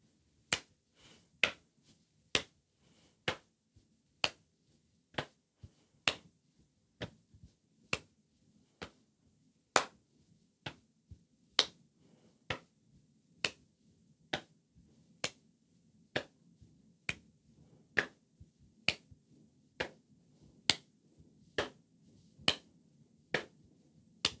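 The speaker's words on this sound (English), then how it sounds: "Let's move on to the body percussion. We're going to do a lap and a clap for this one." Body percussion of patting the lap and clapping hands in a slow steady beat, sharp crisp hits repeating evenly about once a second, close and clear with no talk.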